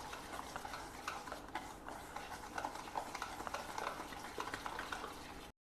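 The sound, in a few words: mixing rava with homemade curd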